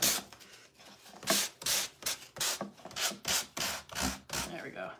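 Sandpaper rubbing back and forth over a wooden washboard to distress its decoupaged finish, in about ten steady, evenly spaced strokes, close and clear with no talking.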